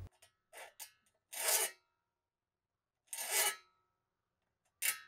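A file rasps across the teeth of a bushcraft frame saw blade during sharpening, with several short strokes followed by longer, isolated passes and quiet gaps between them.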